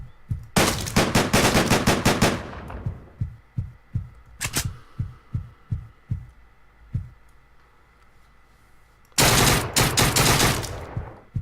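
Rapid gunfire bursts in the video game Deadbolt, long loud strings of shots followed by a single short burst and heavy thudding footsteps or impacts, then another loud volley.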